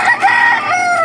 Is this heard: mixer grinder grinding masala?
no